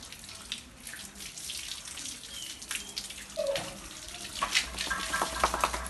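Water gushes from a tap with a steady splashing hiss, growing slightly louder and more spattery toward the end, with no one talking, while a pit bull is bathed.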